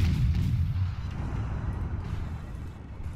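Heavy naval gun fire from a warship in World of Warships, a deep booming blast up front followed by a low rumbling roll that fades over a few seconds, with no talk.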